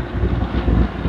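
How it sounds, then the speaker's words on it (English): Airplane passing overhead at a disc golf course by retention ponds, a steady low rumbling drone with some wind noise, no talking. "And an airplane."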